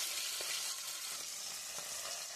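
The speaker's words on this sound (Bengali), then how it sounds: "এই যে বাটা মাছটা ভাজা হচ্ছে" Bata fish fries in a pan on a home stove, giving a steady, low sizzling hiss with a few faint pops and stirring sounds.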